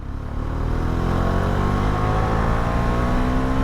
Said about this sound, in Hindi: आप देख सकते हैं यहाँ पर थर्ड गियर पर हैं, अभी गाड़ी को पहले खींचते हैं हम लोग